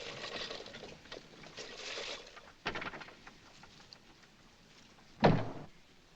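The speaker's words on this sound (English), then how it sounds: "Shut the door." A door is shut inside a house: a soft knock comes first, then a single sharp thud near the end against a quiet room.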